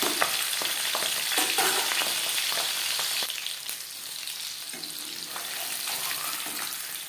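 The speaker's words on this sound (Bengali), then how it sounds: "মাছ ভাজা হয়ে গেছে" Pabda fish frying in a small amount of hot oil in a pan makes a steady, dense sizzle close up, with small crackles and pops throughout and no talk.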